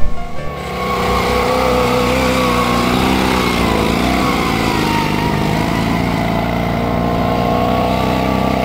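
A vintage Zündapp KS 750 motorcycle engine runs loud and close with a steady, throbbing rumble that holds constant throughout.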